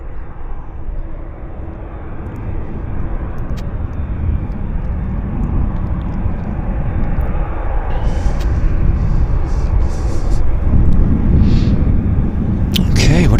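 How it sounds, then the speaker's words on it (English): An Air Canada airliner on flight 342 to Ottawa roars loudly and continuously at Vancouver airport, a broad engine rumble that swells slightly as it goes, with faint higher noises layered over it. "It's Air Canada 342 heading to Ottawa."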